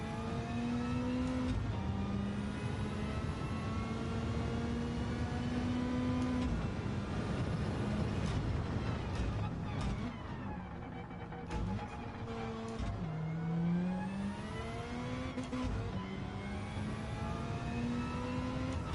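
Race car in Gran Turismo 7 heard from the cockpit, engine revving continuously with rising and falling pitch sweeps as it drifts, loud and close throughout with brief dips between throttle bursts.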